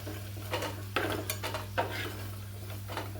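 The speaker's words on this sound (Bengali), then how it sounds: "এগুলো সব ভাজা হয়ে গেছে, এগুলোকে তুলে নিচ্ছি" Crisp fried bitter gourd pieces lifted out of a pan of oil, a few clinks and scrapes of a utensil against metal over a faint sizzle and a steady low hum, close by.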